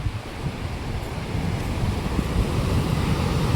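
Water rushing and murmuring along a shallow stream outdoors, a steady broadband wash with wind noise on the microphone, no voices.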